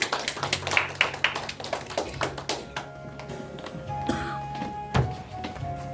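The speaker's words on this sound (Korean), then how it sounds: "하나님께 영광의 박수 올리겠습니다." A church congregation at a Sunday evening service applauding together, a lively burst of clapping that fades out partway through, leaving quieter room noise with a few faint knocks.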